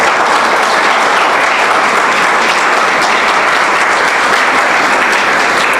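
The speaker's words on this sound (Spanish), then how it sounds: "Dale un aplauso al Señor" Sustained applause from a large church congregation during a Spanish-language sermon, dense and steady throughout, loud and close with no pauses.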